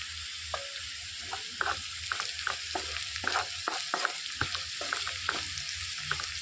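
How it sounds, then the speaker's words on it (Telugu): Onions with salt being stirred in a frying pan for a snake gourd curry, a quiet steady sizzle with regular spatula scrapes and taps, close and alone. "ఇందులోనికి రుచికి సరిపడా ఉప్పు వేసేసుకొని కొంచెం మొత్తం కలిపేసుకోవాలి"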